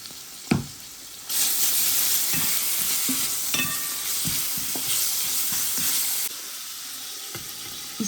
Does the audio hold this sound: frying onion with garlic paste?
yes